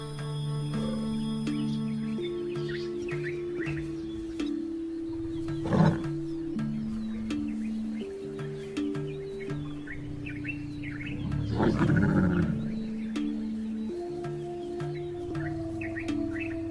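Lions in the African savanna, deep roaring grunts rising twice from a distance, over a steady low drone, with scattered bird chirps in the background.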